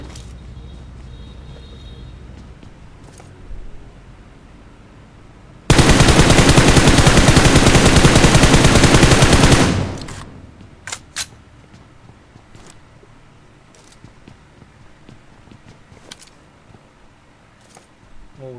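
Sustained loud automatic gunfire in a battle-royale style video game squad fight, a dense four-second burst of rapid shots with scattered single shots and clicks before and after.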